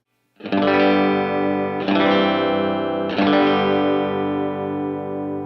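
Electric guitar with delay split across two hard-panned amps: three distorted chords struck in sequence, each ringing out with shimmering repeats and a wide, washy tail, no voices present.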